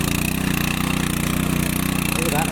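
A tractor engine chugs steadily in a field during the first monsoon ploughing in Konkan, a close rapid rhythmic thumping that stays even throughout, with a voice faintly over it.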